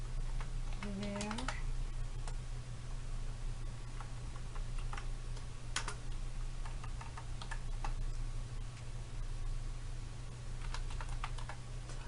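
Typing on a computer keyboard while writing SQL queries, heard as a steady run of quiet, close key clicks with short pauses and faint talk in the background.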